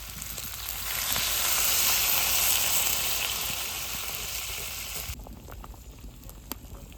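A vegetable curry in a hot pan gives a loud, hissing sizzle as water is poured in. The sizzle swells, then drops off abruptly to a quieter bubbling, with no talking.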